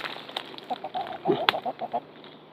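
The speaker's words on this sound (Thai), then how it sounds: "ลูกไก่เขาตาม เขาตามเรานะ" Chicks and young chickens clucking softly while trailing along behind a person walking through an apple and Asian pear orchard, with short repeated peeps and clucks near and moderately loud, plus a brief louder call.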